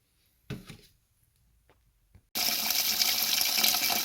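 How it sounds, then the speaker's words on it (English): Kitchen sink tap turned on to fill a bowl for washing rice: a brief clatter first, then after a pause water gushes steadily and loudly from the faucet, close by. "In my sink, we're going to wash the rice. So pour water into the bowl and mix it together."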